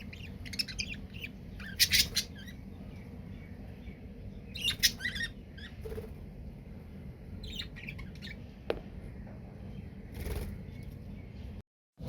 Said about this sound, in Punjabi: ਹੁਣ ਮੈਂ ਬੈਠੀ ਸੀਗੀ ਚਿੜੀਆਂ ਕੋਲ ਵਧੀਆ ਲੱਗਦਾ ਥੋੜਾ ਟਾਈਮ ਇੱਥੇ ਬੈਠਣਾ